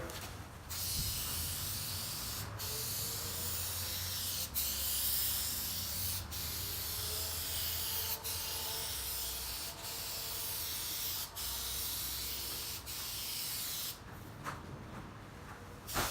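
Spray gun laying a heavy final clear coat on a car inside a garage, a steady hiss running nearly unbroken with a few brief pauses, close and loud throughout.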